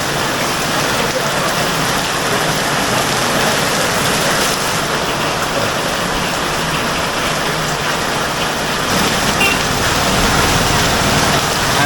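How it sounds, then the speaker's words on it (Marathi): Heavy monsoon rain falls in Konkan on Nagpanchami, a dense, loud, unbroken roar of downpour close by that holds steady for the whole stretch. "आज खूप पाऊस पडतो आहे"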